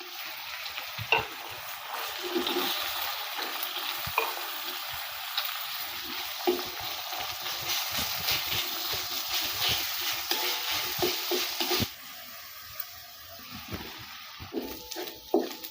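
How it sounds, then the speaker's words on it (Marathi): Onion and chilli roasting in a pan, with a steady loud sizzle and crackle and occasional stirring knocks, dropping to a quieter hiss near the end; no talking. "कांदा टाकून भाजून घ्यायचा."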